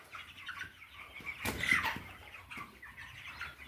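Month-old meat chickens flap their wings in a loud burst amid scattered soft clucks and shuffling, close by in a farm enclosure, with quieter clucking continuing before and after.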